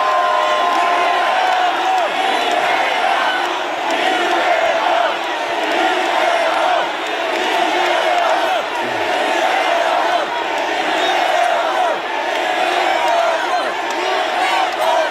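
Large outdoor crowd at a Korean political protest rally roars, cheers and claps continuously for Democratic Party leader Lee Jae-myung, a dense, steady wall of whoops and applause lasting the whole stretch.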